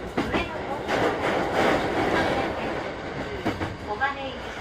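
A JR E233 series 3000 commuter train, set E-52 with a faulty door chime, runs between Fujisawa and Tokyo, heard from inside with a steady loud rumble of wheels and motors and occasional brief clicks and whines.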